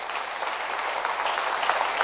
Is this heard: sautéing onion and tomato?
no